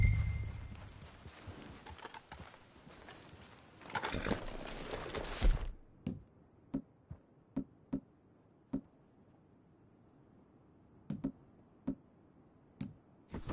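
Horse hooves in Red Dead Redemption 2 clop in a string of sharp, separate steps after a dense noisy stretch, spaced irregularly and fairly close, with short pauses between groups.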